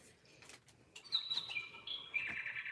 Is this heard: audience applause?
no